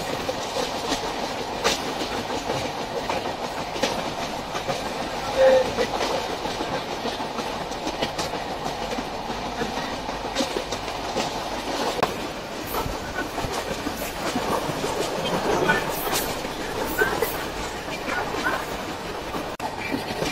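The Sundarban Express passenger train runs steadily on the rails, its rumble and rhythmic clickety-clack continuous throughout, with a dog barking faintly at times.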